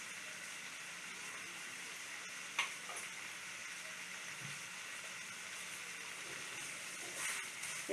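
Mustard prawns sizzle and fry steadily in a pan after a little raw oil is poured in, a continuous close crackle with a few brief stirring clinks and no talking.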